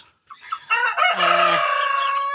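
An ayam ketawa chicken in a backyard gives one long, drawn-out crow, starting with a few soft rising notes before swelling into a loud, sustained, slightly wavering call, heard alone and close.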